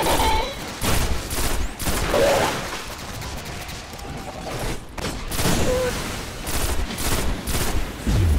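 Gunfire and a grenade explosion in the video game Destiny on PS4, with rapid bursts of shots and booming blasts that come and go across the stretch, loud and dense, without speech.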